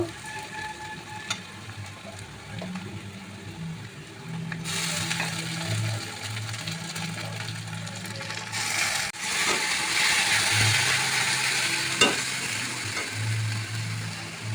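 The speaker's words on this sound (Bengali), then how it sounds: "এবার পেঁয়াজ ভাজা ভাজা হয়ে গেছে পেস্ট করা মশলা দেব" Fried onions with spice paste cooking in a pan for spicy egg curry, a continuous sizzle with scraping and crushing stir sounds that swell louder partway through, no voices.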